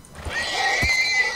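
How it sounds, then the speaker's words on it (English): A horse neighs in a video game, giving a single clear, close whinny that lasts about a second. "There's a baby horse."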